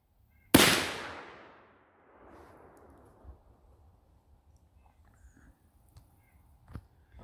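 A single loud rifle shot from a scoped .454 Casull fired over a chronograph at a target, a sharp close crack followed by a rolling echo that fades over a couple of seconds, then quiet outdoor ambience.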